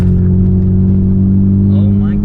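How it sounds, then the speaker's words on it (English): A car engine rumbles loudly and steadily up close, with a strong low idle drone that holds for the whole moment while a person's voice enters near the end. "This freaking car, guys. This sounds so good."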